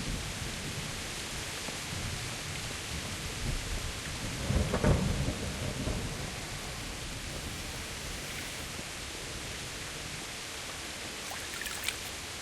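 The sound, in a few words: rain and thunder in video game Kingdom Come: Deliverance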